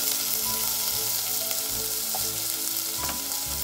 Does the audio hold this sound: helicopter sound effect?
no